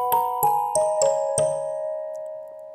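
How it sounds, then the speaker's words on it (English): A xylophone-like pluck synthesized in Massive X plays five bright, bell-toned notes in quick succession, each struck crisply and ringing on, the last fading out slowly into silence. "how to make xylophone plucks in Massive X"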